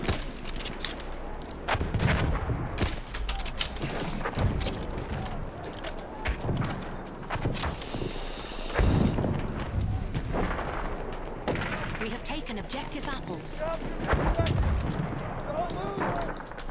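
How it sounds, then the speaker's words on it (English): Battlefield 1 combat with gunfire and heavy explosive thuds, including mortar impacts, arriving in irregular bursts at varied distances, with a player talking over the action. "Mortar. That's what killed me."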